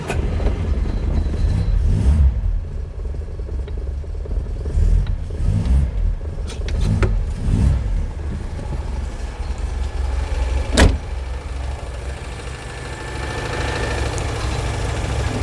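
A project car's engine runs and idles in neutral with HT leads hooked up, a loud, steady, close mechanical rumble with a few clunks and one sharp knock partway through, and no voices.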